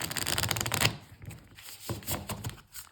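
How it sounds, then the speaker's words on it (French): A deck of playing cards is shuffled in a quick, dense riffle of crisp flutters lasting under a second, followed by softer, scattered card handling and light rustles. "Donc on va déjà battre les cartes."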